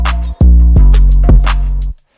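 Trap drum pattern run through waveshaper distortion and reverb: punchy low kicks hit in a steady beat with crisp hi-hat and snare transients on top, loud and alone, with a short decaying tail at the end.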